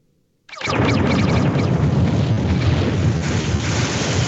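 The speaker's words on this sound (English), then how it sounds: "the port side cannons, we're going to shoot one more time" A sudden loud roaring blast erupts after a brief quiet moment, then a sustained rumbling crackle of port-side naval cannon fire rolls on without pause, in a video game.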